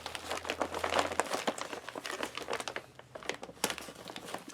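A plastic MRE ration bag from a United Nations 24-hour pack crinkles and tears as a knife cuts it open, giving close, irregular bursts of crackling with a faint low hum underneath.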